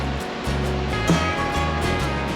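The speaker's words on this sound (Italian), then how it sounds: "Siamo arrivati al Tolminka River, fiume di Tolmino. Guardate che acqua!" The Tolminka river near Tolmin flows with a continuous broadband rushing and churning of water, heard close and steady for a couple of seconds with no voices over it.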